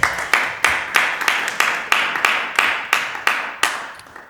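About thirteen hand claps come at a slow, even pace, close and crisp, during a music presentation. The claps sound like one steady clapper rather than a full crowd.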